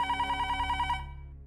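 A mobile phone rings with a steady, rapidly pulsing electronic bell tone, loud and close, that continues for about a second before cutting off and fading.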